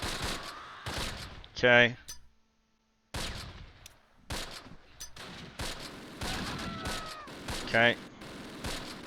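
Gunfire and machine-gun bursts in the Close Combat Last Stand Arnhem war game crackle in repeated volleys, with a brief silence partway through, while someone talks over the shooting.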